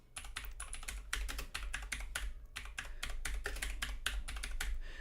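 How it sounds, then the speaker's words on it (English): Loud computer keyboard typing, rapid irregular clacking keystrokes close to the microphone, continuous for several seconds with no talking. "Loudest keyboard."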